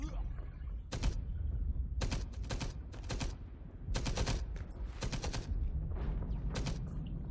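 Repeated bursts of automatic gunfire from the World War II shooter Enemy Front, arriving in rapid clusters with short pauses between them over a steady background rumble.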